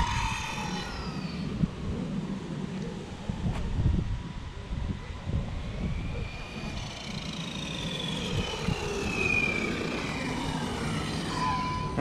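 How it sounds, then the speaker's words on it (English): A Quantum XT Flux brushless 1/10 4WD RC stadium truck runs at full throttle on an outdoor run, its thin electric whine rising and falling in pitch as it passes at a distance over wind and background noise. "That's full throttle."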